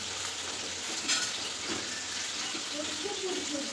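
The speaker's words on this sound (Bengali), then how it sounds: "মাছগুলো মিক্স করছি, তো হলদি দিয়ে আর এগুলো বসিয়ে দিয়েছি ভাজাতে" Turmeric-coated fish frying in a pan, a steady close sizzle with faint crackles and a brief clatter near the middle, no speech.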